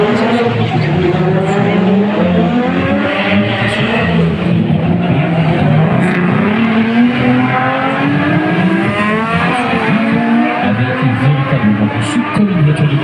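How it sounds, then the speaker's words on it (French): Several race car engines roar and whine continuously at close range at the Circuit des Remparts 2021, pitches rising and falling as cars pass and shift gears around a track. "ce sont d'authentiques voitures de course"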